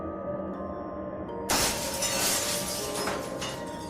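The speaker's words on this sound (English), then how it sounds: "The glass exploded into hundreds of pieces." A glass window shatters in a sudden loud crash of breaking glass, followed by a dense spray of tinkling shards over a low rumbling background, with no speech.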